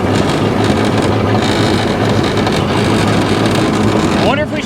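A 1925 Ford Model T driving, its engine a steady loud drone with heavy wind rush throughout, ending in a brief rising whine.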